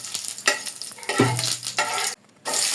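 Bay leaf, dried chili and panch phoron sizzle loudly in hot oil, with bursts of frying hiss broken by a brief pause near the end.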